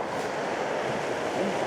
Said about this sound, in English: the waves coming in, every now and then you get a gap where the waves are going out